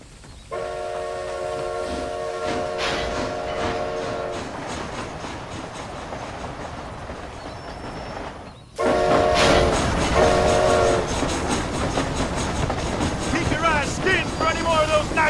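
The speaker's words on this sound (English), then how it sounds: "This train headed for Mexico?" In Red Dead Redemption Undead Nightmare, a train rumbles loudly along the rails with a steady roar, its horn or whistle sounding in sustained tones near the start and again after a brief break midway.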